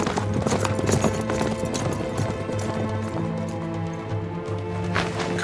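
Horse hooves clip-clop in a steady, close rhythm as a commander's mount is readied during a siege drama, set against a dense bed of sustained musical tones.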